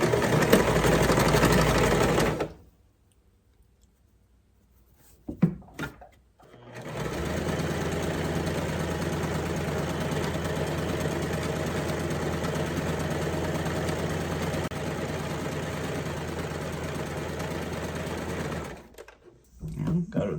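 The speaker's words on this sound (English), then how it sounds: "I'm sewing these together." A sewing machine stitches quarter-inch side seams on cloth doll bloomers in two long continuous runs, loud and close, separated by short pauses with a few clicks.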